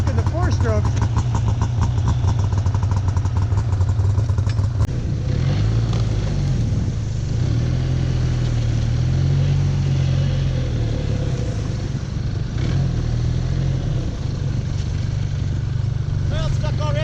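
Arctic Cat Norseman 3000 snowmobile engines, one two-stroke and one four-stroke, run nearby with a loud steady low idle drone that shifts pitch now and then, with people talking over it.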